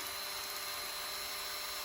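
A small drill bores steadily into a motorcycle gear selector ball joint on a Triumph 955i Sprint, giving a constant high-pitched whine that holds without a break through the whole stretch, close and even in level.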